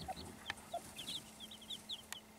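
Hen clucking among a farmyard flock, a series of short, soft clucks and chirps scattered through the clip at moderate distance, with a steady low hum underneath and no talking.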